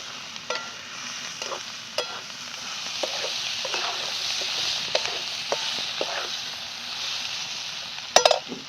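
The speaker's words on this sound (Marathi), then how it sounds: "परातलं परत मीठ टाकून परत परतून घेणार आहे" Dal and onion stir-frying in a pan with turmeric and salt, giving a steady close sizzle broken by repeated scraping and stirring clicks, with a sharper clatter near the end.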